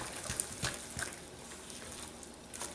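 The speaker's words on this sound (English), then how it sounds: "We're just going to mix them up." Vegan pumpkin apple muffin batter stirred in a bowl, soft wet squelching and scraping strokes at an irregular pace, quiet and close with no talking.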